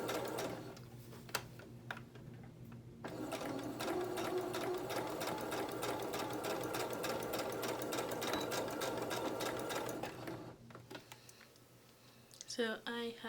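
A sewing machine stitches a satin bonnet, running in a steady, fast mechanical chatter for about seven seconds before stopping, fairly quiet, with a voice talking softly before and after the run.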